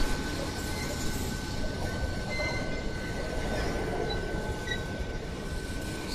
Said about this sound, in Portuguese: E é trem que não acaba mais.